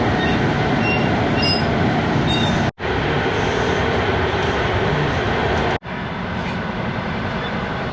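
A passenger train rolling through rural Russia, a loud, steady rumble of wheels on rails filling the cabin, broken by two short sudden dips in the noise.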